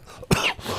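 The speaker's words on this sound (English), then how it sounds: "I'm coughing again" A man gives a single short, sharp cough, close and loud, followed by a breathy rasp.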